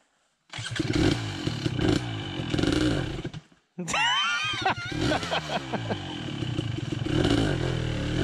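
An off-road vehicle engine revs hard on a trail at Walker Valley ORV area, a loud, rough, sustained roar with a brief drop and a sharp rev surge before it climbs again.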